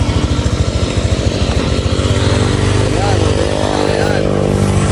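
A small motorcycle engine idles and revs gently as a beginner rider moves off slowly, a steady low rumble close by throughout, with a voice speaking over it.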